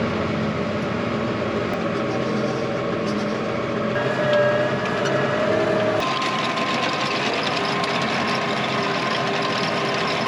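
A John Deere 830 tractor engine runs steadily while sowing spring crops, a loud continuous mechanical drone with a rattling, clattering texture that shifts partway through and keeps going without pause.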